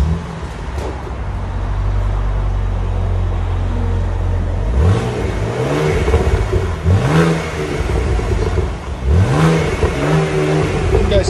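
A 2014 BMW Z4 3.0L inline-six on its stock exhaust idles, then revs three times in quick rising-and-falling sweeps, close and fairly loud, with a smooth mellow tone between blips.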